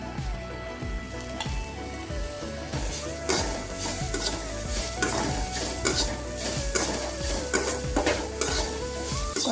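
Mushrooms, capsicum and onion fry and get stirred in a pan, a steady close sizzle broken by repeated scraping and clatter of the spoon against the pan.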